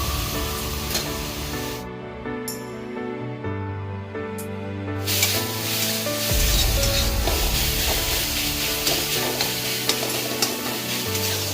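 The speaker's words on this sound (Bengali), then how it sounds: "নেড়ে নিচ্ছি একটু।" Katla fish curry with mango being stirred in a hot pan, a steady sizzle with continuous scraping and rubbing of the spatula, close and fairly loud throughout, with a brief quieter gap early on.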